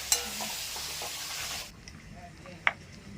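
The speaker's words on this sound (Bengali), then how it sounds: "তো নান ভাজা হচ্ছে দেখো নানগুলো কি সুন্দর হচ্ছে" Naan fries in hot oil in a pan, a strong continuous sizzle with a clink at the start that fades to quieter kitchen noise and a later sharp tap.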